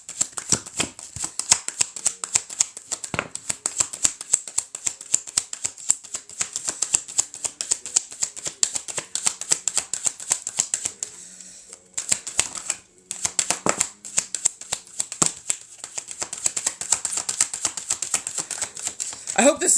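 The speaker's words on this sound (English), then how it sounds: "I shuffled through the whole deck on purpose." A deck of tarot-style cards is shuffled steadily for about twenty seconds in a rapid, close, crisp riffling patter, with a brief pause midway, during a live intuitive reading.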